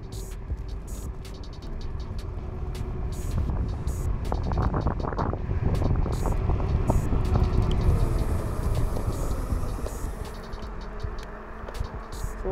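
Rushing wind roars across the microphone during a top speed run on an XScooter X1 electric scooter with a 500 W rear hub motor, a loud, continuous buffeting that swells and fades over the ride.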